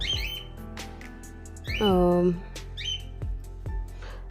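Cockatiels on a balcony squawk in loud, harsh calls, with one long shrill cry in the middle, surrounded by sharp clicks and softer chirps close by.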